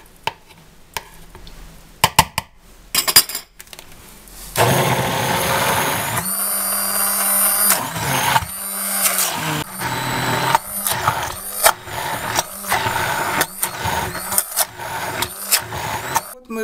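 Electric blender whipping warm homemade liver pâté together with butter in a container, a loud steady motor whir with pulsing surges, preceded by a few clatters and knocks.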